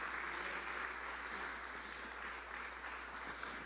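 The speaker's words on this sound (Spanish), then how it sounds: "Dale un fuerte aplauso a Dios" A church congregation applauds in a continuous, even wash of clapping, heard from some distance and fairly faint, with no pauses.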